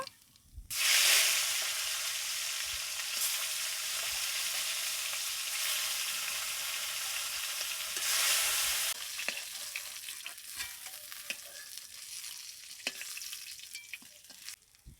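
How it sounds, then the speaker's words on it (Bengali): More fish goes into hot oil in a wok, erupting into loud, close sizzling that holds steady, swells again briefly, then settles into softer intermittent crackles and pops. "এবার বাকি মাছগুলো ভেজে নেব।"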